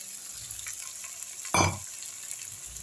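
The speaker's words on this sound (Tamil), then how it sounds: "நல்லா கிண்டி விடுங்க." Egg poured into frying masala in a pan, with a single scraping stir rising over a soft, steady sizzle.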